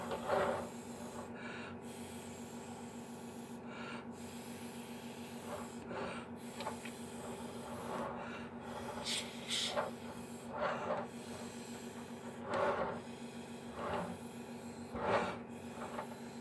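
Alcohol ink being blown through a straw, a series of short breathy puffs repeating every second or two, close and fairly quiet against a faint steady hum in a warm room.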